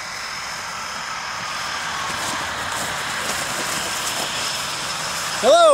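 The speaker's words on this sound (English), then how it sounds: "that's a really loud airplane noise in the background." Steady airplane engine drone, loud and continuous in the background throughout, rising slightly near the end, at a skydiving setting.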